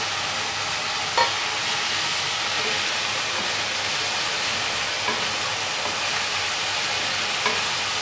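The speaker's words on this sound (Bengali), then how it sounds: "হাই ফ্লেমে নেড়ে চেড়ে মিশিয়ে নিলেই রেডি হয়ে যাবে আমাদের আলু 65 বা পটেটো 65।" Potato pakoras being stir-fried on high flame in a spicy Potato 65 masala, giving a steady, close, loud sizzle with a few faint scraping clicks from stirring throughout.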